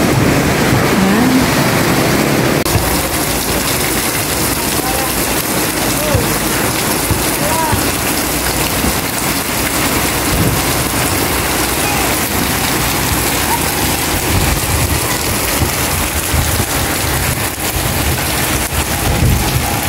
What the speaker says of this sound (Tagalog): Dito po yung lakas ng ulan na side na to.